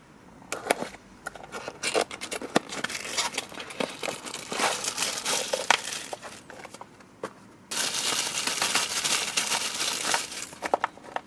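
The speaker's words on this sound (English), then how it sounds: "So let's go ahead and unbox the Skrull Infiltrator." Unboxing a Hasbro Marvel Legends Skrull Infiltrator action figure: close, busy crinkling and tearing of cardboard and plastic packaging, with rustling bursts and a long continuous stretch of crumpling near the end.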